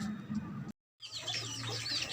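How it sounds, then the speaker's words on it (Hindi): Hens clucking at a farmhouse where chicks, ducks and peacocks roam, soft chattering bird calls that break off for a moment and resume, faint and a little distant, with no talking. "ये देखें कितनी मज़े की आवाज़ लग रही है मुर्गियों की।"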